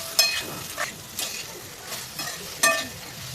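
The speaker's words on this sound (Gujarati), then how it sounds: "હવે આ પણ આપણે ભીંડામાં મિક્સ કરી દઈએ આ રીતે હલાવીને" A spoon stirring okra in a pan with salt and turmeric, giving about five scraping strokes in an uneven rhythm over a soft sizzle. The stirring is close and clear, with no speech.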